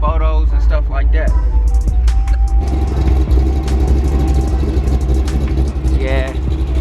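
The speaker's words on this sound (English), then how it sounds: "the idle speed still sounds pretty high" A carbureted Chevrolet El Camino engine runs at a steady, elevated idle, a deep continuous rumble up close with a person talking over it.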